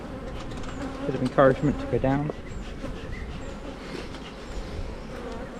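Honeybees buzz steadily around an open hive during an inspection, a dense low hum running throughout beneath a person talking close by.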